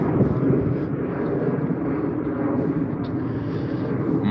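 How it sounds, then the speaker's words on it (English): A plane passes overhead near an airport in Minneapolis, Minnesota, on a cloudy day: a steady, loud low rumble lasting throughout, with no talk. "So that's why there's a lot of planes."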